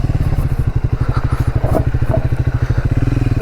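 A motorcycle not built for off-roading chugs along a rough dirt trail near Bhawali dam, its close, loud engine beating in a rapid steady pulse with clattering knocks and bumps over the uneven ground.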